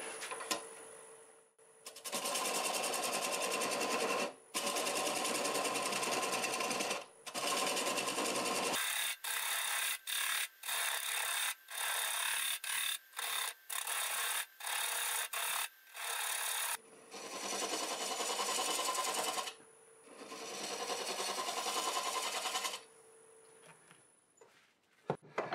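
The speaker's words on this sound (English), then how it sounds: "I'm going to use a 1/2-inch bowl gouge for most of it. And we'll just start removing it." A half-inch bowl gouge cuts wood on a turning lathe, making a loud steady rasping scrape in long sustained passes, broken midway by a run of quick stuttering cuts before the long strokes resume, with no talk.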